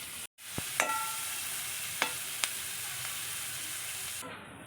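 Chicken fries in a pan with chopped onion, capsicum and green chillies for chicken pasta, giving a soft, steady sizzle broken by a few sharp clicks of stirring utensils.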